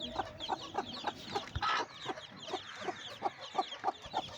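Brooding hens that have hatched chicks clucking close by, a rapid run of short repeated clucks with soft chick peeps and faint farmyard background, no talking.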